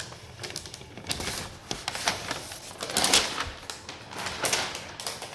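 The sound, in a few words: protective paper peeled off new MacBook Pro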